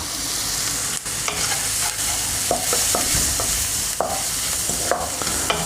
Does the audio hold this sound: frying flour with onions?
yes